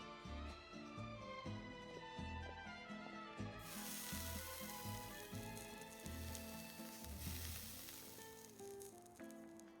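Fish searing in a pan in Genshin Impact: a faint steady sizzle that swells to a broad hiss partway through, set against soft game music with no talking.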